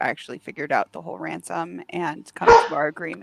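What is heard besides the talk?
dog barking in the background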